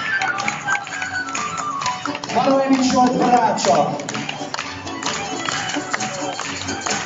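A concert crowd at a band show in Marosvásárhely claps steadily for a band member, a dense, sustained patter of many hands under an announcer's voice naming performers.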